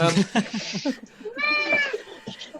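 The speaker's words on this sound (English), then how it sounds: "cats, apparently." A cat meows close by, giving two or three drawn-out, tonal calls in quick succession with short breaks between them.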